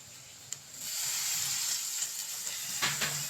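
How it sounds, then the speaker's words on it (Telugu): Boiled eggs fry in a pan with coriander powder, a soft steady sizzle and hiss that rises after a light clink and carries on with a few spoon taps near the end, no talk. "ఇప్పుడు ఇంకొక రెండు నిమిషాలు ఫ్రై చేసుకోండి"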